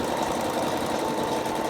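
Embroidery sewing machine stitching the outline of a table mat, a rapid continuous mechanical chatter with steady rhythmic needle pulses.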